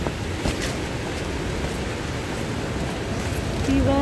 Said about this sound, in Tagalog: Grabe, ang lakas ng hangin dito ngayon.